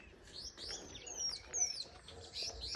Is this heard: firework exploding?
no